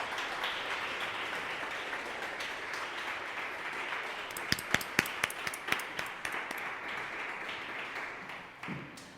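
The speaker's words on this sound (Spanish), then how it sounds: "dale un aplauso al Señor por eso." A church congregation claps in praise during a service, a steady wash of applause across the room with a few sharper nearby claps standing out before it fades.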